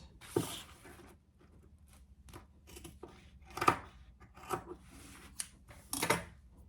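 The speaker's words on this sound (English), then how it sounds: "Now we'll cut off our extra zipper and our extra zipper." Scissors make several crisp, separate snips as they trim excess zipper from a boxy crossbody bag being sewn, with quiet rustling of fabric between cuts.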